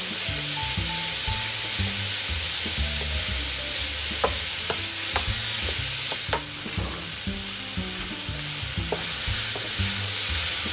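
Vegetables fry in a pan with sambal oelek paste, a loud continuous sizzle broken by the clatter and scrape of stirring, close up, with no talking.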